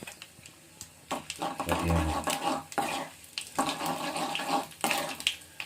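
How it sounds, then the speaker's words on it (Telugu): Cumin and fenugreek seeds frying in a pan with toor dal and chana dal, giving a steady sizzle with stirring scrapes and clatters that swell and ease over a few seconds, close up and with no talk. "కొంచెం జీలకర్ర, 2 మెంతులు వేసేసి వేగాలండి."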